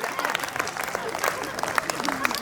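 Audience applause at a Hindi comic poetry gathering, a hasya kavi sammelan, steady clapping from a crowd at moderate distance, continuous for a couple of seconds with voices mixed in.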